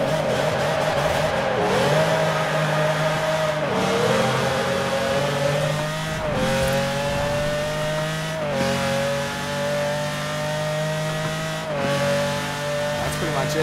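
Ferrari 599 GTB engine in Forza Horizon 4, tuned for drifting, making a full-throttle pull: a loud, steady rising wail that drops briefly at each gear change and climbs again.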